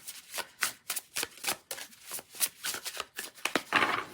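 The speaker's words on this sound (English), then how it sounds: "Let's give it another little shuffle." Tarot cards are shuffled by hand up close in a quick, repeated rhythm of papery riffles and taps, with no voices.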